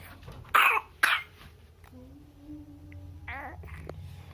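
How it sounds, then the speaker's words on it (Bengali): A young girl coughs twice in quick succession, close and sharp, followed by quiet babbling and soft child vocal sounds in a calm indoor setting at bedtime. "মেয়েটা কাশি হয়ে গেছে ও শোনো"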